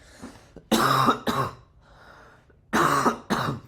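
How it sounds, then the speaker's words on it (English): Four sharp, loud coughs in two pairs, with a quiet pause between them and no talking. "Excuse me, sorry, I've got the cough."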